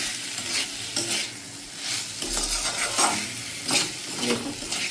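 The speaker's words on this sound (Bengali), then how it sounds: "ভালোভাবে মিশিয়ে নিয়ে নাড়াচাড়া করতে থাকবে, খুব কষিয়ে নেওয়ার মতো।" Elephant foot yam and small shrimp being stirred and fried in a pan, repeated scraping strokes of a spatula over a continuous close sizzle, with no voices.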